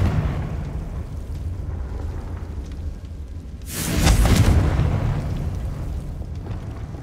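Confringo blasting spell in Hogwarts Legacy, a single loud, broad explosion bursting out about halfway through and rumbling for roughly a second over low ambient background.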